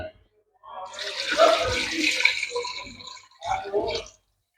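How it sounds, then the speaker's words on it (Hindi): Water pours into a cooking pot of meat in two bursts, a long splashing gush followed by a shorter pour after a brief pause. "गोश्त ऐड करने के बाद तकरीबन 3 गिलास पानी इसमें डाल देंगे"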